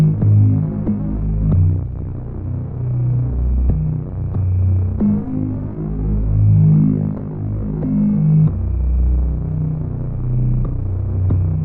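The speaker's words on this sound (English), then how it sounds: "bass blink, and then here's the bass line, but I ended up switching this later" Synth bass line built from the bass blink sound of an Aurora kit, with no effects: deep, throbbing low notes pulsing steadily in a repeating pattern, loud and alone.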